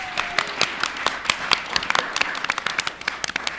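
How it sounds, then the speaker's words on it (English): A small audience at a panel gives a round of applause, sparse and uneven, with individual claps distinct and close, fading and thinning out toward the end. "Give yourselves a round of applause."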